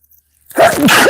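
A single short, sharp sneeze bursts out of silence, close and loud, lasting about half a second.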